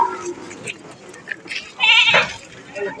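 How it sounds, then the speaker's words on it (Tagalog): Goats at a livestock market in Lemery, Batangas, bleat several times over the general noise of the crowd, with one strong wavering bleat close by near the end while people talk. "Daming kambing, oh."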